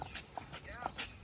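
Horse hooves clip-clop along a residential colony street in a quick, even run of sharp hoofbeats, fairly faint, with a voice talking underneath.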